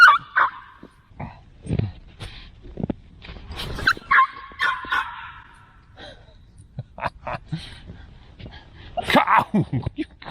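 Dog on a snowy day at a cabin, barking in short sharp bursts mixed with yips and whimpers, close by, scattered across the scene with a person talking in between.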